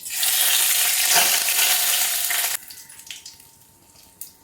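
Panch phoron, halved dried red chillies and a split bay leaf hit hot oil, a loud dense crackling sizzle for a couple of seconds that drops abruptly to a faint sputter with a few small pops.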